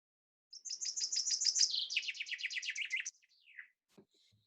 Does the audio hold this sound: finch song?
yes